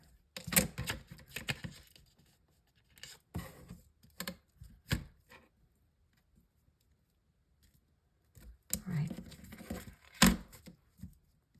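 Paper is torn by hand for a petite mini journal, several short ripping bursts close up, separated by quiet pauses, with a longer cluster of rips near the end.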